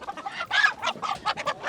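Chickens in a cold winter Kabul alley cluck in quick, choppy bursts, several short calls overlapping at close range with no talking over them.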